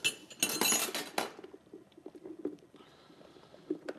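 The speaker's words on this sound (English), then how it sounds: "We're going to add about 6 cups of tomatoes here." About six cups of tomatoes tumble into a Vitamix XL blender container, a dense clattering burst of chunks hitting the jar in the first second, then softer scattered knocks and shuffles as the pieces settle.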